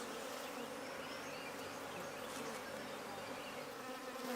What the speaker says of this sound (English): These are native bees recruited from the wild.